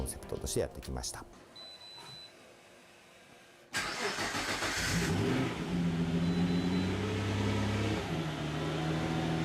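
Nissan R35 GT-R engine fitted in a Toyota HiAce van cranks and fires up, then settles into a loud, steady running idle close by; people talk briefly before the start.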